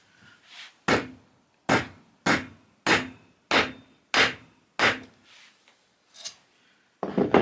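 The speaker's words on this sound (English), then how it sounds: "let's flatten that washer again" A hammer strikes a washer on the small anvil of a VEVOR 4.5-inch engineer's vise. About seven sharp metallic blows land at a steady pace, followed by a couple of lighter taps, all loud and close with no talking.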